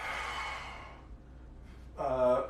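A deep, breathy inhale followed by a long exhale during a floor exercise workout, close and fairly soft, with a brief quiet gap before a voiced breath near the end.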